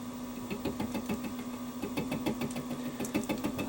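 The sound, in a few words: Warco WM16B milling machine running at 400 RPM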